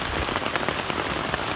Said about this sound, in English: because it's raining out.